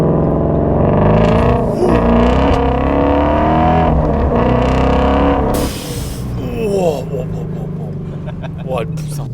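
A Ford Mustang Shelby GT350 pulling hard, its engine roaring loud and close with rising tones through the gears before easing off, with excited voices speaking over it.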